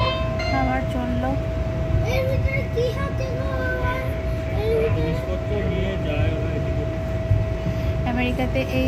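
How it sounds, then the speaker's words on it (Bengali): Commuter train rolling through Hunt Valley, USA, heard from inside a nearly empty car: a steady, loud rumble of wheels and motor with a constant whine running through, unbroken for the whole stretch. "আমেরিকাতে এই আমার প্রথম ট্রেন চড়া"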